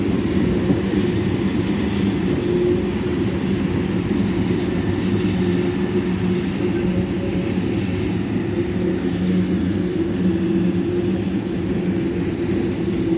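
Loaded freight train passing at close range, a loud continuous rumble of rolling wagons with steady wheel noise and no break over the whole stretch.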